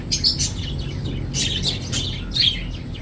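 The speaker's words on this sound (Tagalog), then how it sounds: "Ganda ng mga ibon, no?" Several birds chirp and tweet in quick, overlapping bursts over a low background hum, fairly close and steady throughout.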